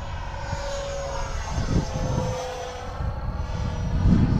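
A Freewing F-22 Raptor RC jet flies a tight minimum-radius turn, its ducted-fan whine forming a steady rushing roar that swells slightly as it passes, moderately loud with wind noise.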